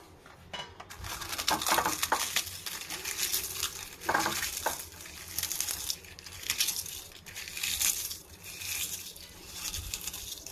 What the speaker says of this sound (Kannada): ಮೆಣಸಿನ್ಕಾಯಿನ ಬೌಲಲ್ಲಿ ಹಾಕ್ಕೊಂಡು ಮ್ಯಾಶ್ ಮಾಡ್ಕೋಬೇಕು ಫ್ರೆಂಡ್ಸ್